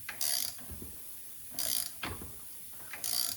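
A 13/16 ratchet wrench clicks through several short bursts of ratcheting while a steering pump pulley is being fitted, close by and crisp, with brief pauses between the bursts and no speech.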